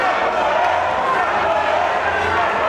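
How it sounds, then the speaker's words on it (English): A wrestling crowd at an EVE women's wrestling show cheers for Safire, a dense, steady roar of many voices filling the hall throughout. "and they are cheering for Safire"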